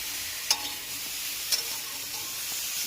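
Ginger, mustard and green chili paste sautéing in a pan with stems, a steady close sizzle broken by two light taps of a spoon against the pan.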